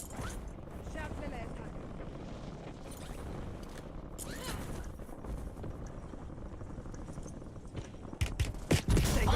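Rapid gunfire bursts crackle in a first-person shooter video game, a dense stream of shots with sharper, louder bangs near the end, mixed with game noise and a voice.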